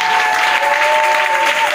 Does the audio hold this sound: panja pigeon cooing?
no